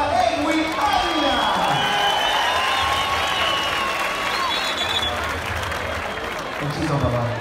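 Spectators at a Medellín track cycling event applaud a cyclist with sustained clapping and crowd noise in a large venue, while whistles, voices and a faint announcer or public-address sound carry over the steady wash of applause.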